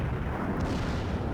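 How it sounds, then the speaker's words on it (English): Heavy shell impact from battleship turrets striking a ship in the naval game World of Warships, a dense low rumbling blast sustained throughout the short moment, loud and close with no talk. "I eat a hefty shot from their turrets"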